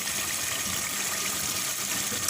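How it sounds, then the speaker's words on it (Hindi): Water pours steadily into a pot of chicken korma masala in a home kitchen, a continuous hissing gush with no break across the short moment and no talk. "अब इसमें शामिल करेंगे पानी हस्बे ज़रूरत।"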